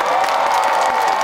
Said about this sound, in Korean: 박수 한번 주세요, 여러분.